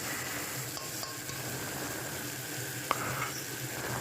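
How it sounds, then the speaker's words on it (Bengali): Salt, turmeric, dried chili powder and cumin powder stir-fried in oil for a Bengali egg and potato curry, a steady sizzle with soft scraping of a spatula and one sharp metallic tap of utensil on pan. "এক এক করে লবণ, হলুদ, শুকনো লঙ্কার গুঁড়ো, জিরে গুঁড়ো দিয়ে ভালো করে মশলাটা কষাতে হবে"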